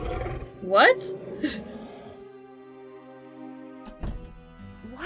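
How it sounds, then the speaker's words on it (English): A werewolf in the Miss Clue: Christmas at Donner Pass video game lets out a brief, rising growling roar, followed by a sustained eerie ambient drone with short interjections of speech. "That is the sound of the werewolf that constantly haunts outside my door."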